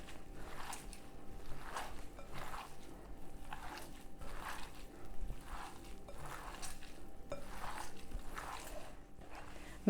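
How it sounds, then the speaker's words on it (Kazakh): Minced meat being mixed with fried onion, cabbage and carrot, giving a steady rhythm of soft wet squishing strokes, close and fairly quiet, with no voice over it. "Жақсылап араластырамыз."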